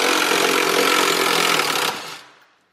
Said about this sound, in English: so he is taking off the transmission bolt